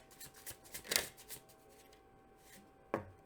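Tarot cards are shuffled in quick, crisp riffling bursts, close and fairly quiet, with a sharper snap near the end.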